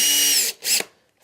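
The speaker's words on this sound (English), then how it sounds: "Putting it onto the end of the drill," A power drill drives a grub screw into a hole in a drawer rail assembly. It whirs loudly for about half a second, pauses briefly, then gives a second shorter burst and stops.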